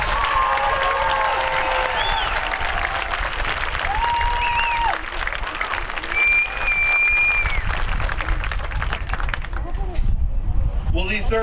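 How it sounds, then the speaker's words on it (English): A high school graduation crowd in 2019 gives a dense, loud round of applause for the graduates, with whistles and cheering voices mixed in before it thins out at the end. "Let's have a round of applause for our second row graduates."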